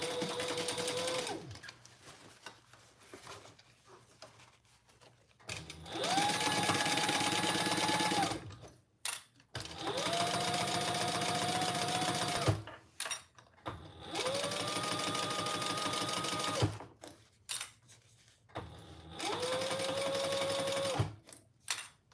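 A sewing machine stitches a seam on a fabric laptop bag in loud bursts of steady, whirring motor hum, four or five runs of a few seconds each, separated by short quiet pauses and small handling noises.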